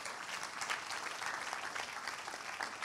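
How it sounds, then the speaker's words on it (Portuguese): Steady applause from an audience in a church service fills the space for a few seconds, a dense, even wash of clapping at moderate distance. "Un aplauso para nuestros mentores."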